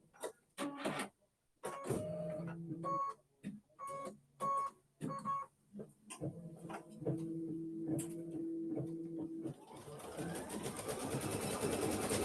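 An embroidery machine stitches a quilt block in short, start-stop whirring bursts. It then settles into a steadier mechanical hum and ends in a broader rushing noise.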